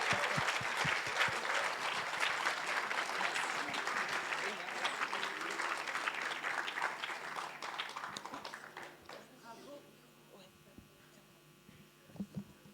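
An audience claps steadily at the closing ceremony of the Vox Milo 2025 awards, the applause thinning out and fading toward the end.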